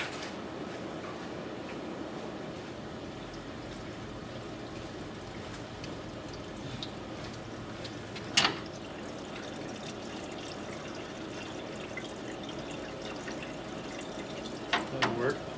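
Water poured into the bone-dry radiator of a 1965 Imperial LeBaron, a steady close splashing trickle throughout with a couple of sharper knocks, under a faint voice.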